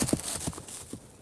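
A horse's hooves clip-clop rapidly for a moment and then fade, as a storybook sound effect of a rider racing away on horseback.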